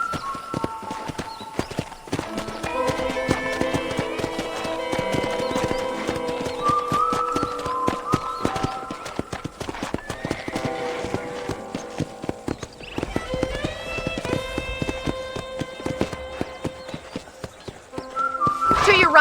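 Horse hooves clip-clop steadily on a ranch in Red Dead Redemption, a brisk, even trot heard up close, with occasional whinnies and snorts mixed in over a quiet game soundscape.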